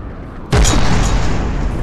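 A small cannon fires in the naval combat game From The Depths: a sudden loud boom halfway through, followed by a rumbling, slowly fading roar.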